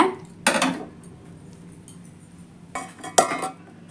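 Metal pot lid set down over a pan of rice-button sweet corn gravy, giving a couple of sharp clanks with short metallic rattles, close and alone in a quiet kitchen.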